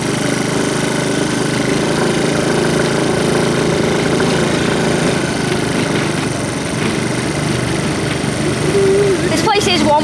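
Honda C90 motorcycle engine pulling a small trailer at a busy race meeting, a steady close-up buzzing drone throughout with faint voices in the background.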